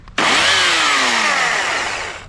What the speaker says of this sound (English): I can now connect my electric chainsaw to the extension cable which runs into our inverter